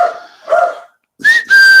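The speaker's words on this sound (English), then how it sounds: "Oh, there goes the dog." A pet dog gives a few short, loud barks and yelps in an indoor home setting. The sound comes in two bursts separated by a brief silence, close by, with no talking.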